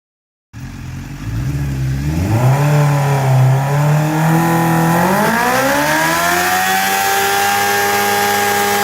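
A Suzuki 1000cc motorbike engine starts up and revs hard, the pitch climbing in smooth steps toward high revs and holding a loud, sustained whine close by.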